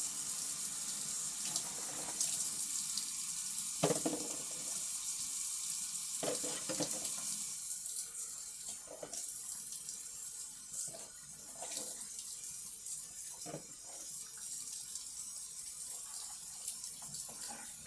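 Water trickles and splashes steadily for a long stretch as it is poured into the wells of a Tupperware breakfast maker, with small irregular clinks and drips, close by and fairly quiet.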